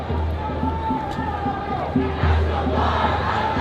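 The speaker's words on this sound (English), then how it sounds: "It's also a much smaller crowd than yesterday." A smaller crowd gathered at a street protest in Los Angeles, heard as a steady, fairly loud murmur of many voices with scattered shouts close around.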